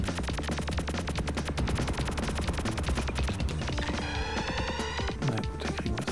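Rapid bursts of gunfire from the PlayStation 2 shooter Steel Dragon EX, dense, loud rattling volleys in quick succession with game music and effects behind them, no voices.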